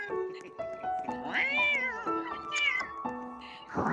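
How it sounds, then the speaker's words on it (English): A cat meows repeatedly in a close, rising and falling series of cries, some drawn out like a caterwaul, with no talking over it. "Who's meowing?"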